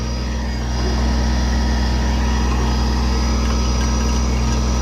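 A Kubota backhoe engine runs steadily outdoors, a loud, continuous low diesel rumble with a constant hum and no talk.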